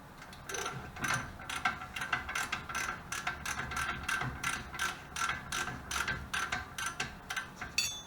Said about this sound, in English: We'll ratchet out of the back.